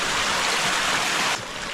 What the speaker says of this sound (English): it's filling up with hot water pretty quick